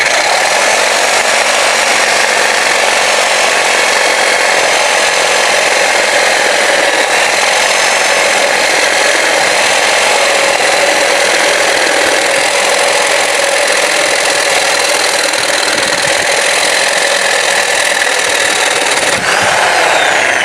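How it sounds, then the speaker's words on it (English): A steady, loud high-pitched whine of a cut-off tool grinding through the exhaust pipe under a GM car, continuous for the whole stretch with a brief dip near the end. "we're going to cut this pipe right about there"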